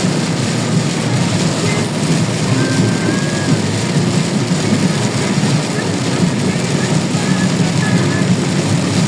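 Steady heavy rain roars throughout during a typhoon in Bocaue, with a deep rumble of thunder underneath, loud and continuous without clear breaks.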